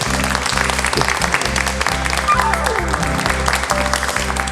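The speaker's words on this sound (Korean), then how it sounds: "다시 한번 큰 박수 부탁드리겠습니다." An audience applauds at a healing concert for emotional labor workers, dense steady clapping over a sustained musical tone with a repeating pulsing low beat underneath, continuing throughout.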